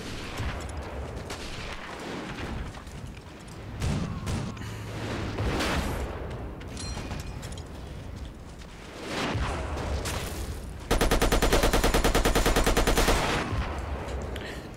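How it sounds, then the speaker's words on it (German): Heavy machine gun fire in the Battlefield 1942 Desert Combat mod on the Tobruk map, with rapid bursts and scattered shots rattling through battle noise, ending in a loud sustained burst near the end. "mit dem schweren MG nur im Liegen schießen"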